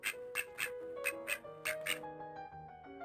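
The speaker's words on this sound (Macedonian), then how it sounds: "Ква, ква, квакаа пајчињата" Ducklings quack in the fairy tale of the ugly duckling, with a quick run of bright, nasal quacks in an uneven rhythm over soft music, fairly close and moderately loud.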